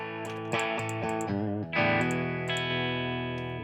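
Electric guitar through a Tube Screamer-style overdrive in the Kuassa Amplifikation One amp plugin, warm and mildly gritty, a few picked notes and a sustained chord ringing out alone.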